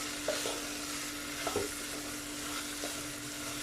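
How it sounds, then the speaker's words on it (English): Pav bhaji being stirred in a pan, a few soft scraping strokes over a steady low sizzle of frying, close and quiet, with no talking. "We will just stir it once in a while to make sure na hindi siya didikit."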